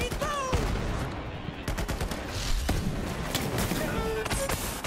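Sniper and rifle shots in the looter-shooter game Borderlands 3, several sharp loud cracks spread unevenly across a busy battle mix, with voices calling out among them.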